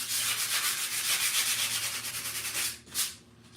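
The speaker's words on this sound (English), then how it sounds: "So I'll use a 120 grit on my orbital," An orbital sander fitted with 120-grit sandpaper works along the edges of a piece, giving a steady, close, rasping whir with a rhythmic pulse that drops briefly near the end.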